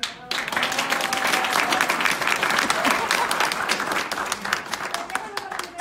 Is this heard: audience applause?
yes